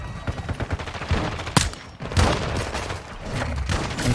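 Rapid pistol fire from a P890 in Call of Duty: Modern Warfare 2, a close, loud string of sharp shots with a few heavier cracks, set against continuous game noise.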